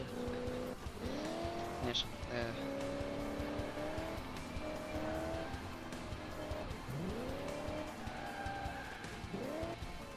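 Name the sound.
car tires skidding from handbrake in video game Crash Time 4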